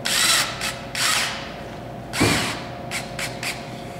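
A drill with a hex drive runs a Holmatro battery-operated rescue tool in several short whirring bursts, close and fairly loud, with a louder rough burst midway and quieter pauses between.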